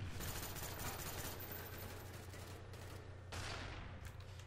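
Sustained rapid gunfire from a helicopter killstreak in Call of Duty: Black Ops on the Nuketown map, a dense continuous rattle of shots with brief surges and a low engine drone beneath, loud throughout.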